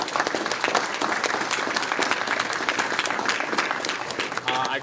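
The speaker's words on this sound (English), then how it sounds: "So I'd like to give everybody that I just mentioned a round of applause." Audience applause at a West Hill Community Association winter quarterly meeting, a steady moderate round of many hands clapping in a hall, even and sustained with no talk over it.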